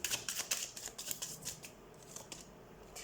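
Tarot cards are shuffled close up in a quiet room during a full moon reading, giving a quick series of soft, papery riffles and slaps that slow and fade toward the end.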